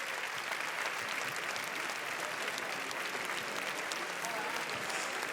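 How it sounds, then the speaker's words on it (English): Standing audience applauding in a movie theatre at a Cannes Film Festival screening, a dense, steady roar of clapping filling the room without a break. "le public est debout pour applaudir Nuri"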